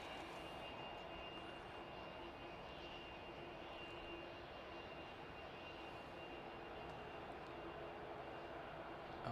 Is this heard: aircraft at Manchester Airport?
yes